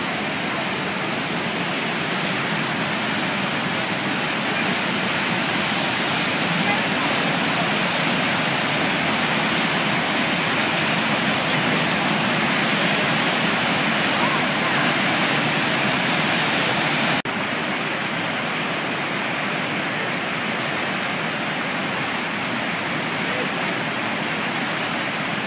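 A waterfall roars in a continuous, loud, dense rush of falling water, steady and unbroken throughout with no voices.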